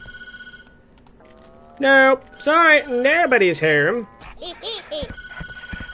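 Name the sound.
telephone ringing in the video game Tattletail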